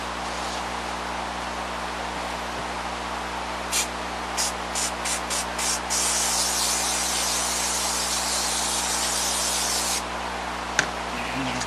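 An aerosol spray can hisses steadily onto a puppet head pattern, with a few short bursts followed by a long continuous spray before it cuts off, close and loud over a constant background hum.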